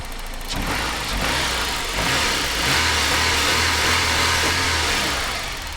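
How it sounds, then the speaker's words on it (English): A Saab 900 convertible engine revs after a drive belt change, rising and falling steadily and close by with no squeal, alone with no talk. "No squealing when I rev it."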